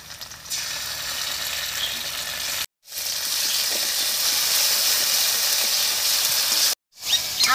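Onions sizzle loudly in hot oil as ginger-garlic paste and chilli paste go in, a close, continuous frying hiss with two short cuts to silence.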